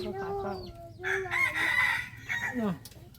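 Chickens cluck and a rooster crows loudly nearby on a farm, the drawn-out crow rising over steady background clucking and faint rural noise.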